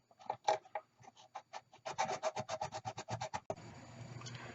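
Epoxy is scraped or sanded off a Bakelite repair in a rapid run of rasping strokes, close and fairly loud, ending in a steadier gritty scrubbing.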